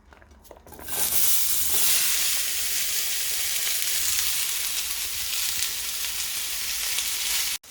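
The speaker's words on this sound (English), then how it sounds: "Add some oil and fry it on a pan." Onion fries in oil in a pan, a loud steady sizzle starting abruptly after a second and holding close and constant until it cuts off, with no talking.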